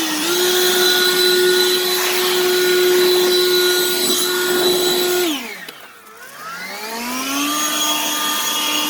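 A Lynxx 40V lithium cordless leaf blower runs close by with a steady high whine and airy rush, dipping sharply as it throttles down before spinning back up to full speed.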